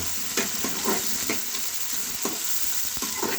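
Chopped onions, cut into long strips, hit hot oil in a pan where ginger is already browning, for a vegetable curry; a steady close sizzle with a few scraping stirs and light clinks, no voices.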